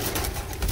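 Pigeons kept for sale, a group of four young birds and nine adults, give soft low cooing in a steady, murmuring stream close by, with no talk over it.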